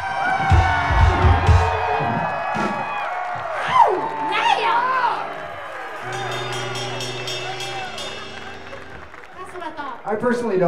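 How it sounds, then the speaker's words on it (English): A crowd cheers, whoops and shouts for a performer, with loud overlapping voices rising and falling in bursts and some voices standing out close by. "Everybody, let's hear a big cheer for Leonore."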